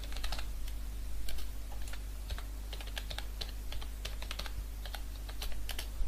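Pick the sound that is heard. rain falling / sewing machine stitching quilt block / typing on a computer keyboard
typing on a computer keyboard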